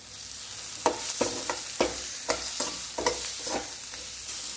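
Bitter gourd with salt and masala stir-frying in a pan for a Tamil chukka dish, a quiet sizzle under a steady series of spoon scrapes and taps roughly every half second, close and fairly faint, no speech.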